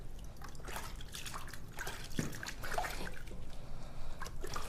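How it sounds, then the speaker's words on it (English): Hands being lightly rinsed in a foot basin of water during a salon pedicure, a steady close trickle and splash of dripping water with soft sloshing, no talk. "I'm going to lightly rinse my hands here."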